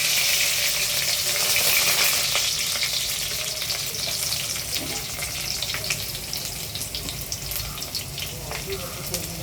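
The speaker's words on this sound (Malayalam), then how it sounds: "നമുക്ക് കറിവേപ്പില ഇടാം, പിന്നെ ഇഞ്ചി വെളുത്തുള്ളി അരിഞ്ഞതിടാം." Curry leaves with chopped ginger and garlic frying in hot oil in a pan for a Malayalam sardine curry, a steady broad sizzle that is loud at first and eases slightly, with occasional clicks and stirring noises and no talking.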